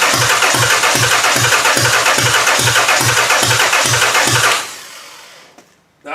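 A motor running poorly on gas gives a loud, rough, pulsing chug at a steady beat for several seconds, then dies away into near silence.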